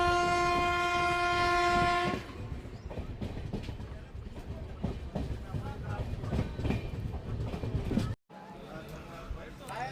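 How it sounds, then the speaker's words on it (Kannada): A train enters platform 1 at Ghataprabha railway station on the Miraj–Belagavi line. A loud sustained horn blast opens, then a continuous rumbling clatter of wheels and carriages follows close by, with voices faintly underneath. "ನಮ್ಮ ಟ್ರೈನ್ ಈಗ ಘಟ್ಟಪ್ರಭಾ ರೈಲ್ವೆ ಸ್ಟೇಷನ್ಗೆ ಎಂಟ್ರಿ ಆಗ್ತಿದೆ, ಪ್ಲ್ಯಾಟ್ಫಾರ್ಮ್ ನಂಬರ್ 1ಕ್ಕೆ."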